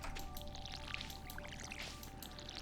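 Watering crops with a watering can in the farming video game Stardew Valley: a steady splashing pour with drips runs continuously, moderately loud over a faint game background, with no talking.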